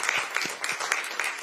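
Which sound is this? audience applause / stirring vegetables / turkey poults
audience applause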